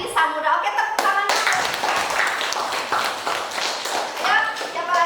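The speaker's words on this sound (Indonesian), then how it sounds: "Oke, tepuk tangan" Students in a classroom clap their hands together, a short busy burst of claps mixed with chatter from the room and voices talking over it throughout.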